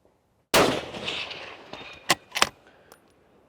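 A Remington 700P police rifle in .308 Winchester fires from a tripod at an outdoor range: one loud, close shot with a long decaying tail, then two sharp metallic clacks a moment later.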